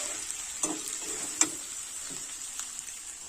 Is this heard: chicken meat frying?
yes